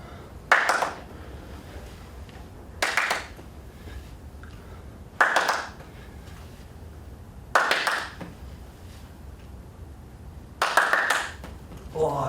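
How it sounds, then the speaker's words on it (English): Two-hand claps during a rugby league throwing-and-catching drill, five sharp, separate claps spaced a couple of seconds apart over a quiet background, each followed by a soft catch of the ball. "Onto two-hand clap."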